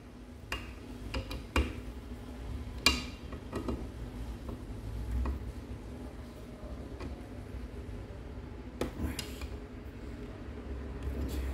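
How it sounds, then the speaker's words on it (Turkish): Screws are tightened on a Peugeot motorcycle carburetor, giving soft creaks and small clicks at irregular intervals. The sounds are close but faint, over a low steady hum, with no talk. "Vizelerini kontrollü bir şekilde sıkıyorum."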